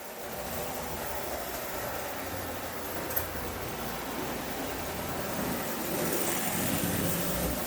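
Quiet, steady running of a model train motor, a soft even rumble and whir that holds at a constant low level with one tiny click midway and no talking.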